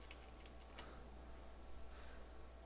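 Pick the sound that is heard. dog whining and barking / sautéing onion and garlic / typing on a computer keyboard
typing on a computer keyboard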